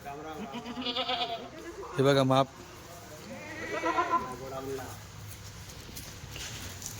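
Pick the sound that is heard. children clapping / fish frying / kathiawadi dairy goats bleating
kathiawadi dairy goats bleating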